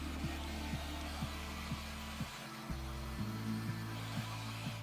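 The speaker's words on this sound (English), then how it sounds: "I'm heating up the old glue with my heat gun." A heat gun blows hot air onto old factory glue on sneaker outsoles, a steady whirring hum that dips briefly in the middle, with faint regular ticks over it.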